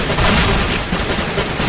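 Rapid bursts of gunfire from a Counter-Strike: Global Offensive match fill the whole stretch, loud and dense with continuous shots and booms and no pauses.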